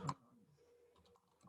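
Quick typing on a computer keyboard during a Python coding session, a soft run of close, light key clicks after a brief louder knock.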